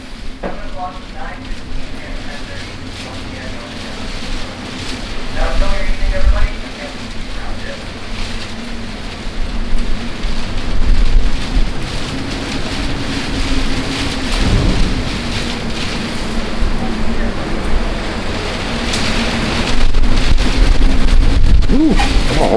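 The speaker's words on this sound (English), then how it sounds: "Raining." Steady rain falls with heavy rumbles of thunder during a storm at sea on an Alaska cruise, a dense continuous hiss building louder toward the end, with occasional voices in the background.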